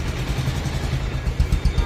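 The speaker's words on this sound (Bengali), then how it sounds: "এটা কিন্তু ফ্রি অ্যাক্সেলেটারের ইঞ্জিনের সাউন্ড" Bajaj Pulsar 150 motorcycle, a 2023 model with about 7,514 km on it, idles with a steady low throb and uneven pulsing close by. No voices are heard.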